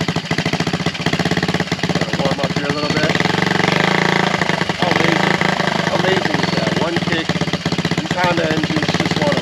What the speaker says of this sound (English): Honda engines just want to run.